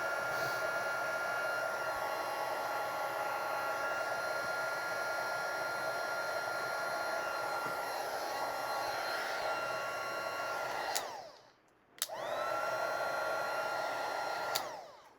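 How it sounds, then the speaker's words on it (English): A heat gun blasting steadily to heat emboss a stamped card, a loud, close, continuous whooshing roar with a whining tone, cut off briefly near the end and switched back on. "I noticed as I was heat embossing that I have a little speckle down here"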